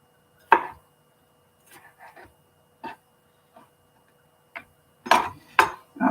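A knife chops yellow pepper on a board in a home kitchen, with sharp, separate cuts: one early, a few light taps, then a quick cluster of louder chops near the end, set against near silence.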